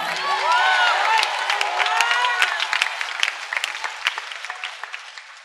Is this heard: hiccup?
no